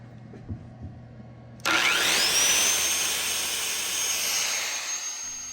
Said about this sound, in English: I expected that the circular saw was going to be too much for the power station